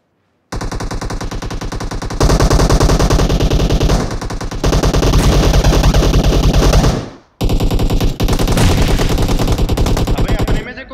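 Sustained automatic gunfire crackles in PUBG on the Sanhok map, with long, loud, rapid bursts. There is a brief pause near the middle, then firing resumes and continues to the end.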